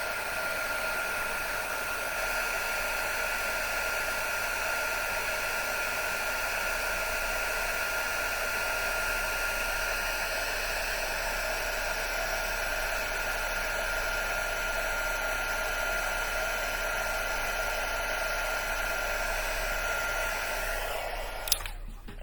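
A heat embossing tool blows hot air at a steady, loud whoosh for about twenty-one seconds while paper is heat embossed, then cuts off abruptly with a small clunk.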